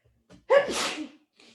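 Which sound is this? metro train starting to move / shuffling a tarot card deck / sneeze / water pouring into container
sneeze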